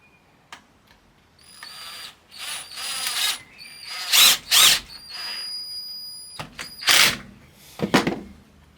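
Cordless power drill driving chipboard screws into a clamped panel in a workshop, several short whirring bursts of varying length separated by pauses and clicks, close and loud, with no voices.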